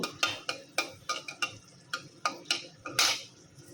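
Chilies are stirred as they fry in a pan, a utensil scraping and knocking against the metal in about ten distinct strokes at an uneven rhythm, close and clear, with no one speaking.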